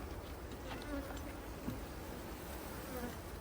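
Honey bees swarm over a hive frame in a dense, faint, continuous buzz that holds steady without breaks.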